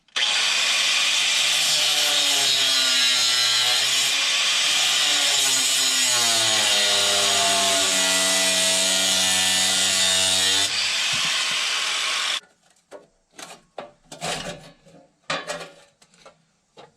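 A power saw cuts through a broken hydraulic line fitting on a backhoe stabilizer, a loud continuous grinding cut lasting about twelve seconds with the pitch dipping and rising as it bites, then stopping, followed by scattered clanks and knocks.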